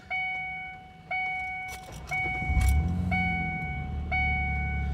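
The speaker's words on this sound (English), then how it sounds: "fire the truck up so you guys can hear kind of a rainy," A pickup truck engine cold-starts in the rain, settling into a loud, steady idle with a rhythmic belt clatter, a sharp tick repeating about once per second throughout.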